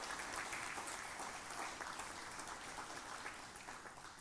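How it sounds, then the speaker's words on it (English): Audience applause at a formal gathering, a steady wash of clapping held throughout, fairly distant and soft. "I think he deserves a little round of applause"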